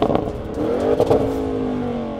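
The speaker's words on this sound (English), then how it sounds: "Race mode, left foot of the brake, right foot of the throttle, and this has the most insane launch control of any wagon ever." A 2021 Audi RS6 or Mercedes-AMG E63S performance wagon in race mode makes a launch-control start, with the engine held at a loud steady drone that rises in pitch as the car pulls away, heard close from inside.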